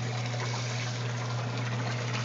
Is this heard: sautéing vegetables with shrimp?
no